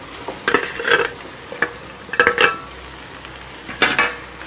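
Cooked rice, mixed with sesame oil and salt, stirred in a pan, heard as a few sharp spoon scrapes and clinks in short intermittent bursts over a quiet background with no speech.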